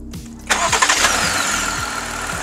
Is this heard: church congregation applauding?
no